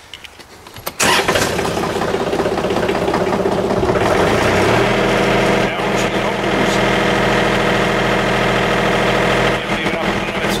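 A tractor engine cranks and starts, then settles into a steady, close, loud diesel idle that runs on without pause.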